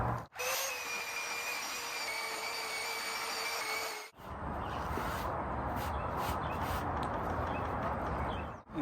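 A power sander grinds epoxy off a butcher block countertop in a steady, fairly quiet drone. It breaks briefly twice and its pitch shifts after the first break, with no voices.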